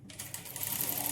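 A sewing machine runs steadily while stitching a folded inside edge on a plain blouse, a continuous close mechanical whir with rapid needle ticking and no voices.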